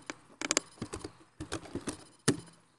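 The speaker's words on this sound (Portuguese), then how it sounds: "agora vamos terminar de digitar" Keys on a computer keyboard clatter in quick irregular clusters of taps, close and fairly quiet, with short pauses between bursts and no voices.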